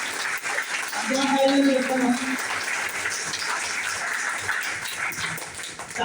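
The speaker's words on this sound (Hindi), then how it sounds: "नए आए हुए लोगों के लिए जोरदार तालियां होनी चाहिए" An audience at a business plan meeting in Dombivli, Mumbai, claps loudly and steadily, welcoming newcomers, while someone speaks over the applause.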